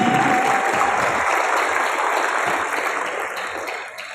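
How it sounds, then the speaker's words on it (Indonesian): Loud, sustained applause from an audience at an MGI recognition event in Sleman, Yogyakarta, honoring Antoni Chin, dense clapping throughout that gradually tapers off toward the end. "Berikan aplaus yang meriah untuk Bapak Antoni Chin"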